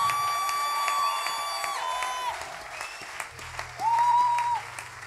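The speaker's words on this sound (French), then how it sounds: "Est-ce qu'on peut acclamer sans la musique, rien que nos mains et nos cris de joie?" A church congregation at a French-language worship service applauds and cheers without music after a choir's praise, producing steady, dense clapping with occasional raised voices, close and full throughout.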